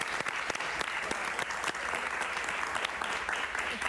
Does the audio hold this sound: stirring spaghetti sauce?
no